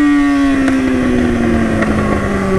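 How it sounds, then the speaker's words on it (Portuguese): A motorcycle engine drones close and loud with a steady tone whose pitch slowly sinks as the bike eases off, with wind rushing alongside and no talk. "Nós chegando de moto ainda."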